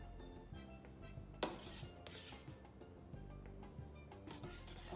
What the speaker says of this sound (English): we're gonna take some time here just to mix this in.